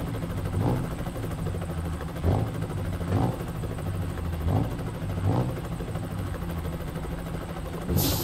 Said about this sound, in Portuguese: Olha o barulho do helicóptero lá.